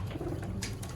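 Sialkoti pigeons coo in a soft, low, throaty rumble that runs steadily throughout, close by, with faint rustling above and no talk.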